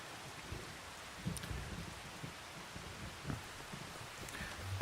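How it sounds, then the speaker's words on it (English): Steady rain pattering on truck mirrors in Farming Simulator 25, a soft continuous hiss with occasional faint drops and low thuds, quiet throughout. "check out the rain on the mirrors"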